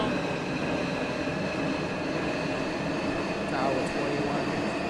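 An R27 subway train idles in the OpenBVE train simulator on the F line to Jamaica–179th Street, its steady mechanical hum and motor whine droning on without a break.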